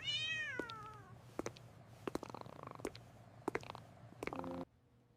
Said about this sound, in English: Put the cat here.